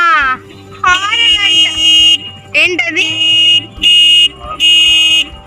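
Horn honks on a road, several sustained tonal blasts with pauses between them, close and loud over a low vehicle drone, while adults and someone talk nearby.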